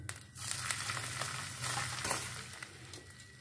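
Potatoes frying in hot cooking oil in a pan, a steady dense sizzle that stays loud and continuous throughout, alone with no talk.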